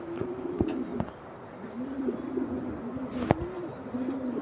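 Pigeons in a seller's loft coo in low, steady rolling phrases, moderately near, with a few sharp knocks and clatters breaking in and no talk.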